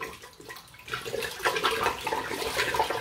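About two litres of hot water poured into a cooking pot for a bean goulash, a gurgling splashing stream that starts softly, then grows fuller and louder and runs on steadily.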